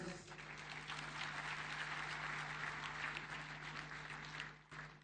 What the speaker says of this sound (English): Another super applause for our host.